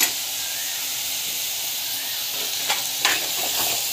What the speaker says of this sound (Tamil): பெருங்காயம் வந்து ஆட் பண்ணிக்கணும். நல்லா வந்து வதக்கிட்டுக்கோங்க.